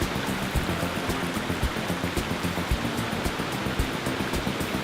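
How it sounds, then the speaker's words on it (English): Bond Falls on Michigan's Keweenaw Peninsula in autumn rushes and overflows onto rocks and built stairs, a dense, continuous close-up roar of splashing water with no voices. "Bond Falls basically overflows onto the rocks and the stairs that have been put in place"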